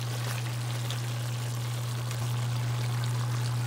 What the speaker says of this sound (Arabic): بدي انزل الماي مالته